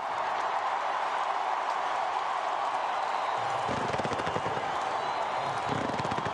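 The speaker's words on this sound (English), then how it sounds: "More fireworks." Fireworks crackle and pop over the Vieux Port in Marseille during the Olympic flame celebration, rapid bursts building in the second half over a constant crowd roar.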